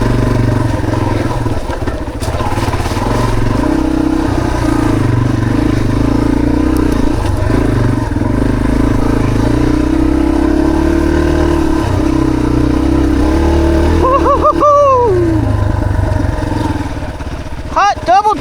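Motorcycles ride a mountain trail on Green Mountain, with a steady engine drone throughout, rising and falling with throttle, while voices talk and shout over the riding.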